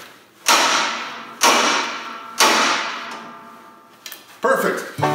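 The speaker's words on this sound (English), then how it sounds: "When in doubt, use a bigger hammer. And I'd say this is a pretty big hammer." Three heavy, evenly spaced hammer blows on metal, each ringing out and fading, followed by a few lighter knocks and clatters.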